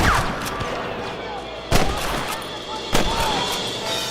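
Gunfire in the Western video game Red Dead Redemption: two sharp, loud shots about a second apart stand out over a busy game soundscape with background noise.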